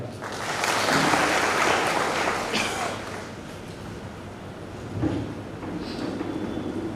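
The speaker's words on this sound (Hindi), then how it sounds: "के लिए जोरदार ताली।" Audience applause at a Hindi talk program, a broad wash of clapping that swells quickly, holds, then gradually thins out over several seconds.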